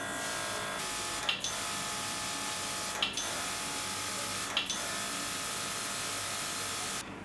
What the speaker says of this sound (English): it can also work with this mini airbrush compressor